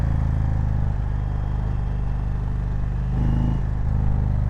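A 2020 Indian Roadmaster Darkhorse motorcycle engine in sport mode, a loud steady mid-pitched drone under road and wind rush, with a brief surge in revs partway through.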